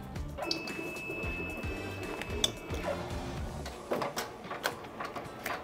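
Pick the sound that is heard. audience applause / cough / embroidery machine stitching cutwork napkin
embroidery machine stitching cutwork napkin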